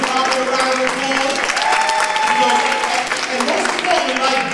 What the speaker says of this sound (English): Give yourselves a round of applause, right?